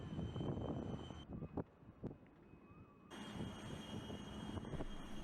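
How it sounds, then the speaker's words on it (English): A Boeing 747 taxis with its four jet engines running, producing a steady broad rumble and roar that drops away briefly in the middle before returning at full strength. "of the 4 engines is carefully activated, producing the deep rumble characteristic of this iconic aircraft"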